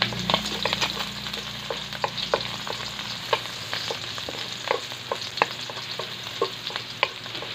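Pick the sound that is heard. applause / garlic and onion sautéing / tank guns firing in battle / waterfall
garlic and onion sautéing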